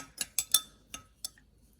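A rod or spoon stirs a chemical reaction in a glass container, giving a handful of bright clinks against the glass in a quick irregular run, close and fairly quiet.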